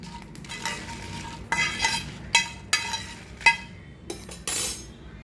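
Peanuts are dry-roasted without oil in a pan and stirred close up, giving bursts of rattling, scraping and clinking as the nuts shift, with brief quieter pauses between strokes.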